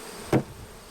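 A single honeybee zips past during a colony transfer between hives: one brief, close buzz that swells and fades within a fraction of a second over a quiet background.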